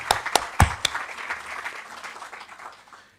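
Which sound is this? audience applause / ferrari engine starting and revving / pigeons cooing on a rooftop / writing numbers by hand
audience applause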